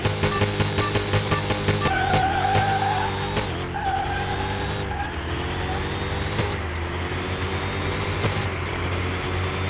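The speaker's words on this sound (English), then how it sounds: "we got a little bit of wheel spin coming off the line right now" A Nissan R34 GTR race car launches hard off the line with wheel spin, its loud engine droning and revving while the tires squeal and skid, heard up close and continuous.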